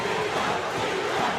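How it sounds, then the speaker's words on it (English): A dense arena crowd roars and cheers for boxer Ivan Calderon during his 2010 fight against Giovani Segura, a loud, continuous wall of shouting voices with no break. "Everybody, the entire crowd is on its feet, cheering Ivan."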